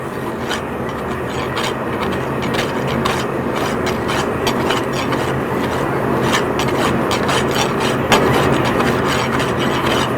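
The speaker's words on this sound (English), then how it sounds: "Now I'm just going to rasp out the cold shut using a Farrier's rasp" A farrier's rasp files steadily at a cold shut in forged metal clamped in a vise, a continuous loud, coarse scraping with rhythmic strokes over ten seconds and no voices.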